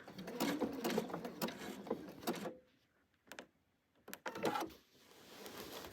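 A sewing machine stitches a long quilted Easter bunny wall hanging in rapid mechanical bursts, stopping and restarting several times with short quiet gaps between runs.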